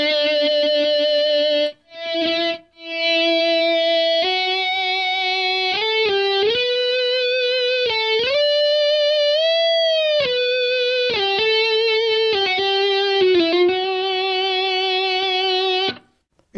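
A sustained electric guitar line is played through a distortion effect, with long singing notes, slides and smooth pitch bends. The tone is thick and voice-like and stays loud and continuous for about sixteen seconds.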